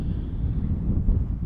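Wind blowing outdoors on a chilly day while hoop houses are being set up: a steady low rumble of gusts buffeting the microphone, heard alone.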